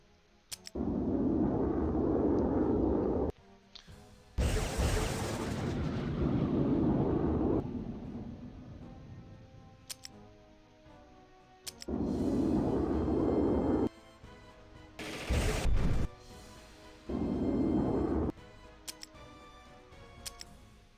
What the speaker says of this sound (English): 3 more airstrikes.